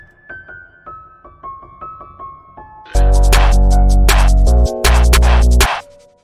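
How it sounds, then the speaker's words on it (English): Single piano-like notes ring out one at a time with echoing repeats, then a loud, dense burst of sustained sound takes over for the final few seconds. "it's just like a piano that's just playing one note at a time"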